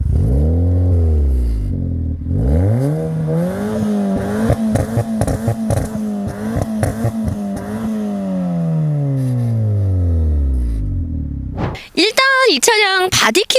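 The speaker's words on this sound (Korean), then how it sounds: "블로우 밸브까지 달아놨으니까 궁금하시죠? 배기음 듣고 올게요" A tuned Chevrolet Spark with over 140 horsepower and a blow-off valve revs up and down loudly, the exhaust rasping and droning close by, then a sharp burst of higher revs at the end.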